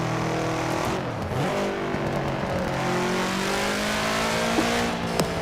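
A Subaru WRX STi engine in Forza Horizon 4 races loudly and steadily, its rough tone rising and dipping as the revs shift, with faint tire noise and no voices over it.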